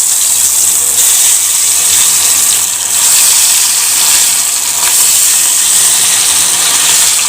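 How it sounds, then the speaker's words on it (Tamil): Chicken 65 deep fries in hot oil in a kadai with a loud, dense, continuous hiss and bubbling roar, close and unbroken, swelling slightly at moments, and no voices. "ஒரு கடாயில் எண்ணெயை ஊற்றிக்கோங்க. இப்போ சிக்கனை போட்டுக்கலாம்."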